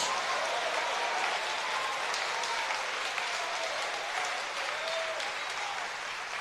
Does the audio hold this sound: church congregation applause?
yes